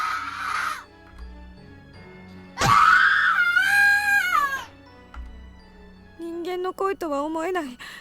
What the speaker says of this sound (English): I'd never heard screaming like this before. It's pure primal terror